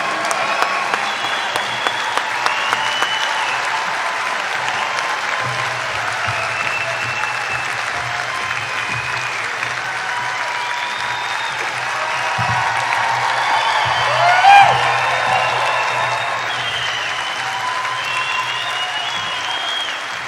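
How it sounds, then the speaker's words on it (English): An audience at a Lincoln Day political dinner applauds steadily for about twenty seconds, a dense, even patter of many hands welcoming the governor, swelling briefly near the end. "Let's give him a round of applause."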